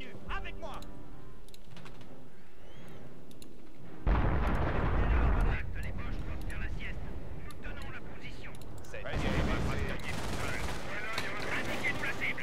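Artillery and gunfire in the World War II strategy game Company of Heroes: a deep blast and rumble strikes, then crackling shots and further booms follow at a distance, with game sounds under them.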